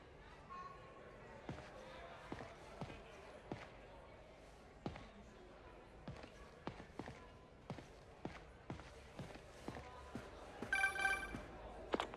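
Telephone ringing in the Spider-Man video game: a short bright electronic ring bursts out near the end, after a steady run of soft rhythmic thuds like footsteps.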